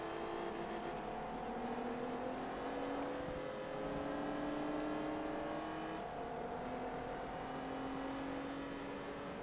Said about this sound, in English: This car's kind of an interesting sound to it